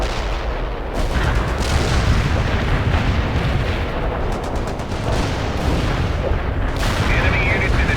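Repeated artillery fire in the real-time strategy game World in Conflict, dense booming blasts and rumbling detonations rolling continuously over several seconds, loud and close, with crackling gunfire layered in and a voice speaking underneath.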